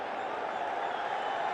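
Cricket stadium crowd at a Pakistan versus New Zealand T20 match on a Friday night, a steady dense roar of cheering and applause that continues evenly throughout with no pauses.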